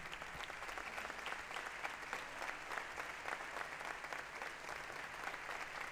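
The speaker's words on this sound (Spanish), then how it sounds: "A continuación vamos a recibir con un caluroso aplauso a Arturo Barquero Romero para que uno de sus" Warm, sustained applause from an audience at a band concert during a Candelaria festival, even crowd clapping throughout, fairly distant and soft.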